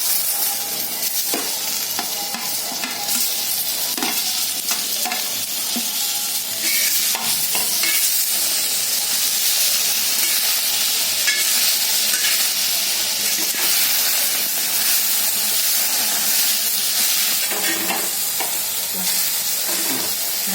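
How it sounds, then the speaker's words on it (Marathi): Tomato and dagad phool masala fry in hot oil for hotel-style chicken handi, a bright, hissing sizzle with frequent scraping stirs, close and continuous with no speech. "याच्यावर तेल घालते, म्हणजे छान जरा भाजल्यावर। हा टमाटा घालते।"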